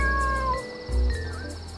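Cats meow in the video game Dave the Diver, with a few short, bright mews over a low, steady music bed, near and clear with no speech.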